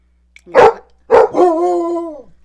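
A dog close by gives two sharp barks, the second stretching into a drawn-out, whining howl.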